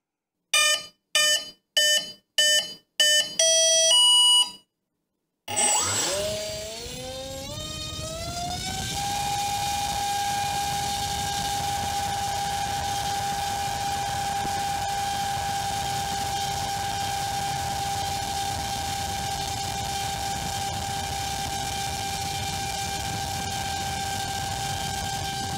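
A Badass Power Systems 2315 1480Kv brushless motor with a 6x5.5 APC prop arms with a series of short electronic beeps, then spins up into a loud, steady high-pitched whine and propeller roar that holds at full speed.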